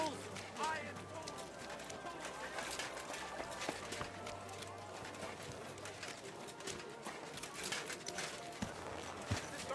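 Horse hooves clop in a steady rhythm while riding in Kingdom Come: Deliverance 2, with a hollow gait running under people talking and occasional birdsong in the background.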